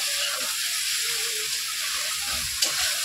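Egg and potato fry in a pan with spices, a steady close sizzle with a brief stirring clatter near the end and no talk.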